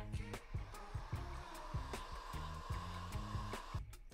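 A dryer blows hot air over freshly screen-printed ink on a realistic artwork print, a steady whooshing drone with repeated rubbing and knocking sounds on top, running continuously and fairly close with no talk.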